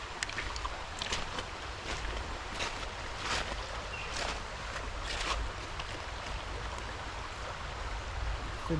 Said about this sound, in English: It's a decent little creek.